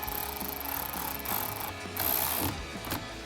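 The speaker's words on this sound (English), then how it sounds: "Tighten those nuts back down." A ratchet clicks rapidly and steadily, close by, as battery terminal nuts are tightened on a Jeep Wrangler JL, in several bursts of quick metallic clicking.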